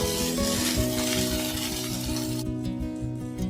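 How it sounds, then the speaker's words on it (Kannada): Okra pieces fry in a pan for a restaurant-style bhindi dish, giving a steady close sizzle with faint stirring scrapes throughout, no voices. "ಹಾಗಾಗಿ ಇದನ್ನು ಚೆನ್ನಾಗಿ ಫ್ರೈ ಮಾಡಬೇಕು ಐದು ನಿಮಿಷ ಚೆನ್ನಾಗಿ ಫ್ರೈ ಫ್ರೈ ಮಾಡಿದ್ರೆ ಸಾಕು"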